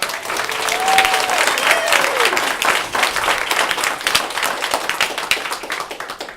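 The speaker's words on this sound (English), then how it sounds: "Give yourselves a round of applause." Audience at a university end-of-summer celebration applauding, dense sustained clapping from a crowd with a few whoops and cheers, lasting throughout.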